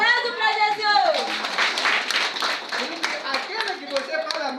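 A church congregation claps and applauds during a Wednesday worship service, a dense wash of hand claps filling the room while a voice speaks over the start.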